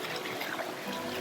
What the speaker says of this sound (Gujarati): નાનું વોટરફોલ